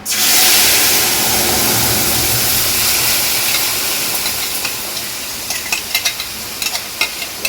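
Ground spice paste hits hot oil in a pan for koi fish curry, bursting into a loud, steady sizzle and hiss that slowly fades into sparse crackles and pops.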